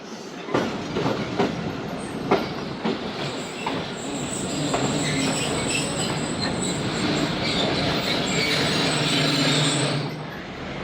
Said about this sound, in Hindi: दो मिनट के आम के बाद दोस्तों ट्रेन रवाना हो चुकी है कलूर कोट रेलवे स्टेशन से